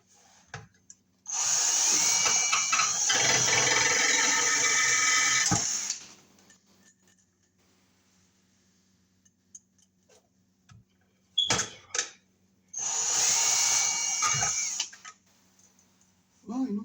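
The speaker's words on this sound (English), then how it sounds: "This is a self-tapping screw we're going to put in here." A power drill drives a self-tapping screw into an electrical panel while swapping out an unsafe Federal Pacific panel, with two loud whirring bursts, one about five seconds long and a shorter one later, separated by quiet handling clicks.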